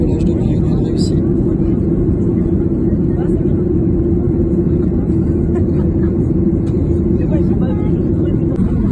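Aircraft engine noise, heard as a steady, loud, unbroken low drone with a faint murmur of voices underneath.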